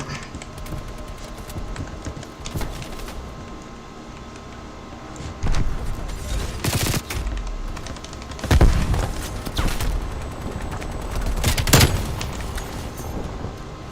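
Gunfire from Call of Duty Black Ops Cold War game play: scattered shots and short bursts with a few loud cracks, set against a steady bed of game sound and ambience.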